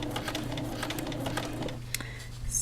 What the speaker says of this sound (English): as my fabric feeds through the machine